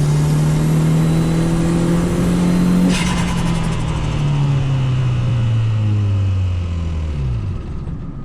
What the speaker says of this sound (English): I just heard a strange sound. I think I've blown the engine.